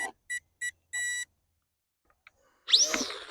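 A drone gives four electronic beeps in a quick rising series on power-up, then silence, followed by a short whirring mechanical burst as it starts nearby.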